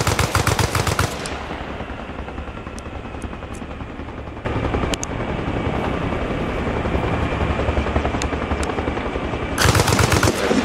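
In Arma Reforger, a helicopter's rotor drones steadily while loud machine-gun bursts rattle at the start and again near the end, with a few sharp single impacts in between.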